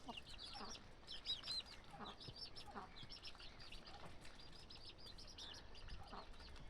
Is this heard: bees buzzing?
no